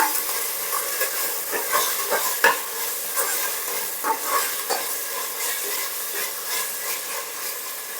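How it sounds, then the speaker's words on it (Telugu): Ginger paste sizzles in a pot for bagara rice as garam masala goes in. A soft, steady frying hiss runs throughout, with irregular light stirring scrapes and taps. No talk. "అల్లం పేస్టు వేగింది గరం మసాలా వేస్తున్నాను"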